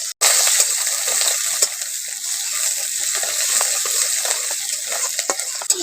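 Chopped onion sizzles steadily in hot oil in a pan, added after green chilli and black cumin for a folai fish and potato curry, a continuous loud hiss with occasional stirring clicks and no talk.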